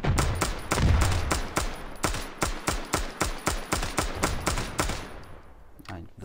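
Rapid automatic gunfire in a competitive shooter, a long steady burst of evenly spaced loud shots, close and punchy, tailing off with a last isolated shot, with a player's voice briefly over the start.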